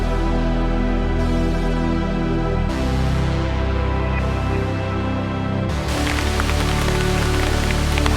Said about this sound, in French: La pluie là.